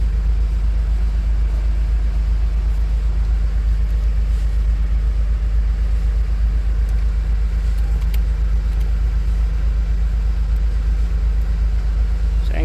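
A car engine, just started after sitting with the air conditioning on, runs at a steady close idle with a loud, constant low rumble throughout.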